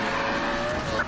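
A drift car's tires squeal in a video game, a sustained, loud screech with steady engine drone underneath, heard up close for about a second without talking.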